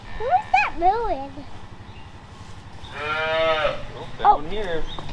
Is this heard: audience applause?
no